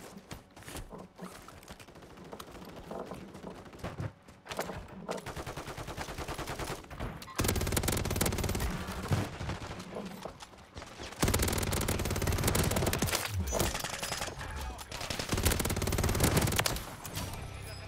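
Sustained gunfire in the shooter game Warzone 3, with heavy bursts and rapid automatic fire that swell louder in the later half, under occasional talk from players.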